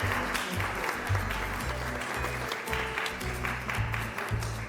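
Steady, dense applause from an event audience fills the whole stretch, loud and continuous with no break.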